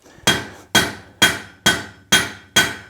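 Six evenly spaced, sharp metallic hammer blows on hot steel resting on an anvil during forging of a decorative fork, each strike ringing briefly and decaying before the next, close and loud with no talking.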